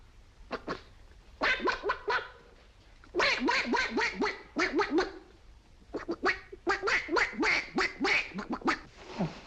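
A voice imitates a duck, with rapid runs of nasal, raspy quacks in several bursts, loud and close, with short pauses between groups.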